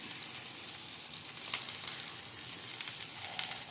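Bobbatlu flatbread frying in ghee on a pan over low heat, giving a steady, close sizzle with a bright crackling hiss that holds throughout with small pops. No voices.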